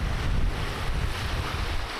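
Clear, fairly deep creek water rushing along outdoors in Borrowdale on England's coast to coast path, a steady broadband wash with some gusty wind noise on the microphone, no voices.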